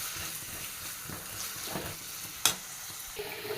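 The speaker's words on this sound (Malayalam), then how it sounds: "പട്ട, ഗ്രാമ്പൂ, ഏലക്ക, സവാള, നന്നായിട്ടൊന്ന് വഴറ്റിയെടുക്കാം." Cinnamon, cloves, cardamom and onion sauté in a pan with a steady soft sizzle and occasional stirring scrapes, plus one sharp clatter partway through; no voices.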